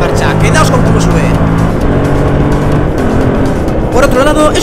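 A Yamaha MT07 motorcycle engine revs hard through a series of upshifts, its pitch climbing and dropping with each gear change, loud and close, with someone talking over it.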